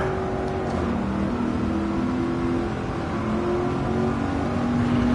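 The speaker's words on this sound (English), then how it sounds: "this car is like lots of torque, but it doesn't want to rev. It's a very lazy engine" A torquey but lazy-revving car engine drones in Gran Turismo 7, a steady close hum with slowly shifting engine tones that rise and fall gently rather than climbing sharply, with no talking.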